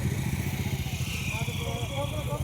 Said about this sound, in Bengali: সবাই রেডি, সব বাইকও রেডি। এবার আমরা স্টার্টিং শুরু করব।